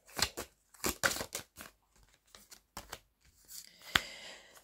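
Tarot cards are drawn and handled in a reading, giving a run of crisp, close card snaps and slides in quick irregular bursts, with one sharper slap near the end, no voices.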